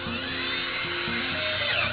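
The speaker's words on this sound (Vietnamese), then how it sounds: "bắt đầu mình sử dụng máy khoan này á, thì các bạn khoan cho mình một lỗ từ bên này qua bên này" Power drill boring a hole straight through a pipe while making a DIY biological filter for a shrimp tank, a loud continuous high whine with a steady motor drone and shifting pitch.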